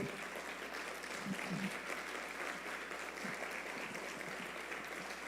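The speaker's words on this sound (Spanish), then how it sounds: "Dale un fuerte aplauso al Señor, por favor." A church congregation applauds steadily throughout, a dense, even wash of clapping that holds at a moderate level from start to finish, with no clear speech standing out above it.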